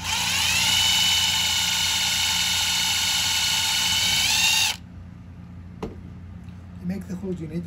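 An electric drill boring holes for a homemade laptop or monitor stand whines loudly and steadily for nearly five seconds, then cuts off, leaving faint handling clicks and a voice speaking.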